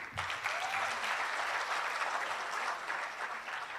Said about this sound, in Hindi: बजाओ ताली इन लोग के लिए